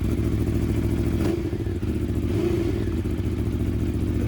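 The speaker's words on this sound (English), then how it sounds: "so firing the bike up." An Aprilia Tuono motorcycle engine running, a loud close steady idle with a low throbbing rumble and a few clunks and thumps partway through, no talking.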